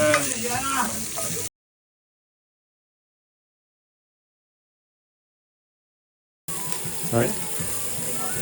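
Onions frying in a pot for Irish stew, loud close sizzling for a second and a half, then a stretch of complete silence before the sizzle resumes with stirring clatter.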